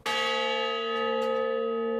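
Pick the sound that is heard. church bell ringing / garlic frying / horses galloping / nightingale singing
church bell ringing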